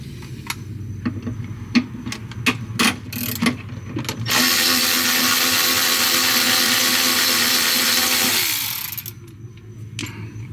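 A power tool, likely an impact or ratchet wrench, backs out bolts on a 2024 Jeep Wrangler during an Amp Steps XL install, with clicking and ratcheting first, then a loud steady whir for about five seconds, close up.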